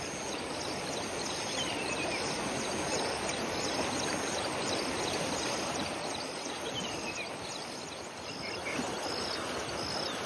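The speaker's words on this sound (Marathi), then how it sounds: "जलवाहिनी असलेल्या कयाधू नदीला इथे पूर आलाय" The Kayadhu river in Hingoli, flooded after heavy rain, gives a steady, loud, unbroken rush of water that fills the whole clip, with faint insect chirps in the background and no voices.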